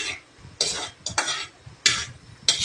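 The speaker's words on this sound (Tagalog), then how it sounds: "Magigisa muna tayo ng sibuyas bawang." Onion and garlic sautéing in a pan for squid adobo, with several sharp bursts of sizzle and spatula scrapes separated by short quieter gaps, close up and without speech.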